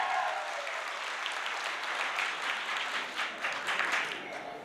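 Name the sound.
loud clapping by the audience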